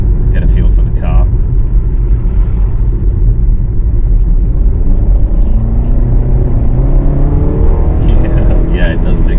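A BMW 330e hybrid accelerates along a country road with a steady, muted engine rumble and road noise heard from inside the car, while people talk over it.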